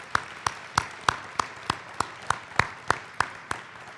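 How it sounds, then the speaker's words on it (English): A small group at an Air Force squadron change of command ceremony claps for a family, a sparse, evenly spaced run of about a dozen distinct claps, fairly close and light, with no talking. "So how about a round of applause for the Obers?"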